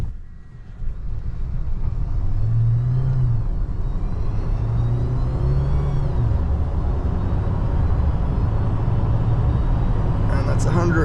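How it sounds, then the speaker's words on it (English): A pre-production JAC Hunter PHEV accelerating at full throttle, with a steady loud rumble of engine and road noise that rises in pitch as it gains speed, heard from inside the cabin and lasting throughout. "when I punched the throttle, it was the gearbox just slightly figuring out what was going on, and it gave us the full power"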